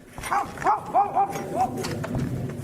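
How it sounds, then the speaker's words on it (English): A dog barks like crazy near storage sheds, about five sharp yelps in quick, uneven succession over a low, rumbling outdoor background. "he hears his dog barking like crazy"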